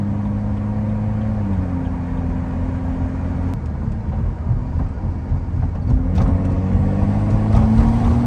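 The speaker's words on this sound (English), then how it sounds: "We're letting the car warm up a little bit" A stock BMW 435i's engine idles while warming up, a steady low rumble heard close from inside the cabin that swells slightly toward the end.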